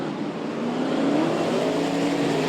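Speedway race cars at Archerfield Speedway revving together at the start of a race, a continuous loud engine roar with rising pitch, no talk.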